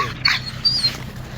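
A dog whimpers close by, giving two or three short, high, thin whines over a low steady hum, with no talk.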